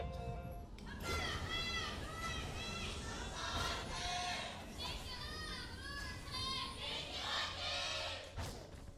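Cheer squads at a League of Legends match between Samsung Galaxy and KT Rolster shout and chant in a loud, dense crowd roar, many high voices rising and falling together for several seconds.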